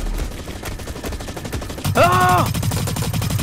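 Rapid automatic gunfire in the first-person shooter Blacklight: Retribution, a dense rattling burst that swells loud near the end, with players shouting and exclaiming over it.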